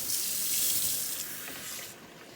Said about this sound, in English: Next thing I'm going to do is I'm going to rinse the lime, take out this gasketing.